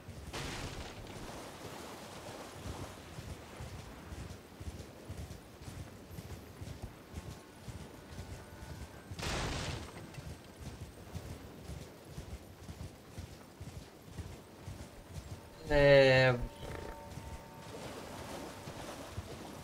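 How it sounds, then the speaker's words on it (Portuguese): Horse hooves gallop steadily in Elden Ring Shadow of the Erdtree, a long rhythmic clip-clop at moderate volume, with a brief whoosh midway and a short bright burst near the end. "Vamos voltar de cavalo"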